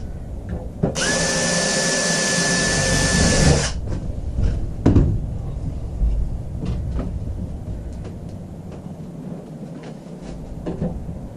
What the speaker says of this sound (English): take your drill with an 1/8 inch drill bit